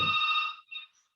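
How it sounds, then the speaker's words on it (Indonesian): A telephone rings in a classroom during a database lecture, giving one clear electronic trill followed by a short second burst, close and alone with no speech. "Sebentar, ada telepon."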